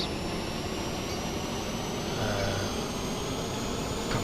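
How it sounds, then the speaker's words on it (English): The auxiliary power unit of an Airbus A320neo, a small jet engine in the tail, runs with a steady broad whining roar and a high tonal whine, constant and fairly close, without talk. "So our APU is started."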